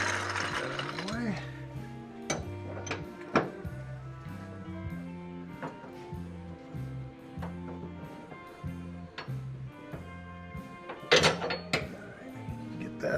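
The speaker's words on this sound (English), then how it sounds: "I'm gonna have to get my 7/8 wrench here." A 7/8 wrench ratchets steadily on the synchronized transmission of a 1929 Ford Model A, making repeated close mechanical clicking strokes in a regular rhythm, with a few metallic knocks of the work.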